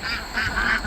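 Domestic ducks at a backyard pond quacking at close range, a few short nasal calls in quick succession with a faint bed of outdoor noise beneath.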